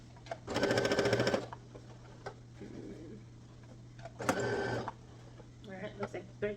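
A home sewing machine stitches a seam in Ankara fabric for a gathered skirt, running in two short bursts of whirring motor and needle chatter with pauses between, while a person talks nearby and a steady low hum sits underneath.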